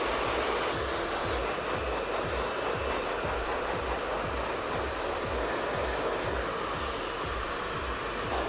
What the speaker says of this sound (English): give that a blast with a dryer to dry the product in